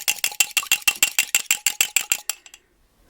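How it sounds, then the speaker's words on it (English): Egg being whisked in a bowl with a fork or whisk, a fast steady run of about fifteen sharp clicking strokes against the side, close and clear, then stopping abruptly. "Yes, I'll whisk it."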